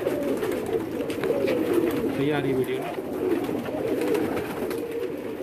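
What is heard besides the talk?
pigeons cooing on a Karachi rooftop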